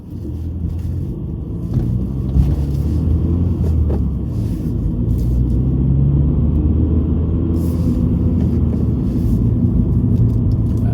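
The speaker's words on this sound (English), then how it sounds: "this one's going to be 5 miles an hour, first gear to go over it roughly" A car crawling at about 5 mph in first gear over a large road hump, heard from inside as a steady low engine and road rumble with a few faint knocks, no talking.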